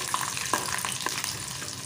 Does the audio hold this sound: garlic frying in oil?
yes